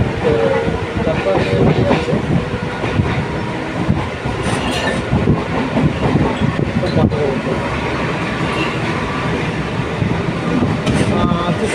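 A passenger train on the line toward Bardhaman rumbles along the rails with steady wheel clatter and carriage noise, loud and continuous from inside, with faint murmuring voices in the background.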